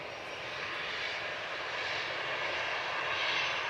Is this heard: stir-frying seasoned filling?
no